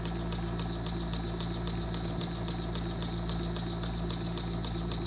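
A small Donatus model steam engine runs slowly and steadily, giving off a close, rapid mechanical clatter with regular rhythmic ticking and a constant low hum, with no talking.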